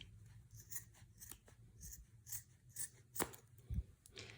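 Scissors cutting through yarn loops to make a pom pom, a run of sharp close snips at an irregular pace, fairly quiet, with no talking.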